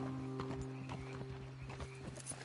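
Horses' hooves clip-clop at a steady walking pace in Red Dead Redemption 2, moderately close and fairly soft, over a low humming background with no talk.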